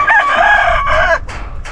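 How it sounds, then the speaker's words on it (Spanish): A large rooster lets out a full, loud crow close by on a hillside farm near Pereira, Colombia, followed by fainter answering crows from other birds further off. "Acá tenemos los gallos."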